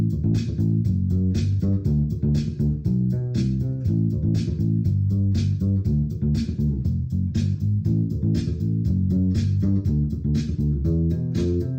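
A revamped version of a song plays, built on a steady, busy bass guitar groove with full band backing, loud and continuous with no talking.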